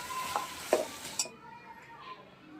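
Masala stirred in hot oil for Bhogi mixed vegetable bhaji, with a few sharp spoon clinks against the pan and a soft sizzle that fades to quiet. Brief and fairly close, with no talking.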